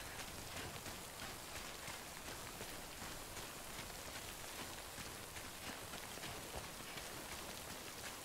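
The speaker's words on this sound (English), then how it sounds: "Depends how hard the rain gets around here." Steady rain falls in the video game Death Stranding, a constant dense hiss of drops on surfaces with no breaks, fairly quiet and alone without talk.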